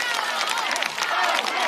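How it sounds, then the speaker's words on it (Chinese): A studio audience at a stand-up comedy show claps in a dense, continuous burst of applause, loud and close, with faint crowd noise mixed in. "掌声再次送给广志"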